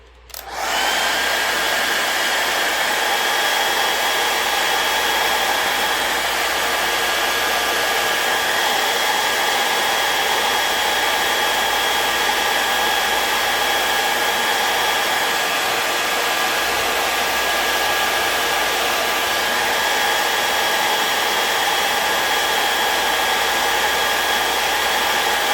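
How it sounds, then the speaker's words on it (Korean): A hair dryer heats the back of an iPhone 11 Pro during a battery replacement, giving a loud, steady whirring blow that starts abruptly and runs on unchanged. "뒷면에 드라이기로 이 뒷면에 배터리 크기만큼"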